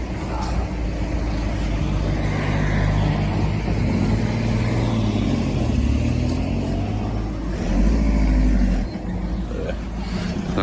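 Vehicles drive out through a gate with a loud, steady engine rumble and a deeper surge as one pulls past nearby, and voices talk faintly underneath.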